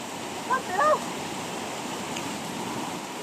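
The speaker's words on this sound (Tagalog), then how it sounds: "napakalakas ng tubig" Loud, steady roar of rushing floodwater from a strong flood, a continuous broadband wash, with a brief shout rising over the flow near the start.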